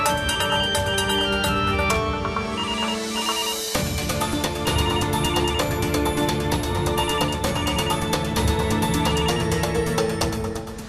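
A landline telephone rings in a Tamil TV drama scene, giving a steady electronic ringtone for about eleven seconds with a brief shift partway through. No one talks over it.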